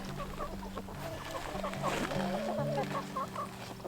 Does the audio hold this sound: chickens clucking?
yes